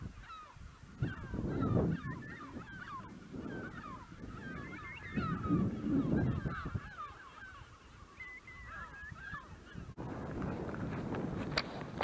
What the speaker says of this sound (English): A lot of seagulls just swarming around.